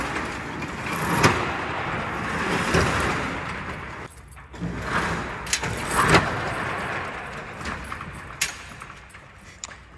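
A new shop door is lowered with a continuous rolling, rattling rumble punctuated by metallic clanks and bangs, close by, with no talking.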